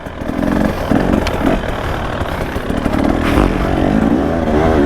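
A KTM 300 two-stroke enduro motorcycle with a carburetted engine, a 2017 model tuned for maximum aggression, revs hard nearby in a loud, continuous, rasping drone with clattering mechanical noise over about five seconds.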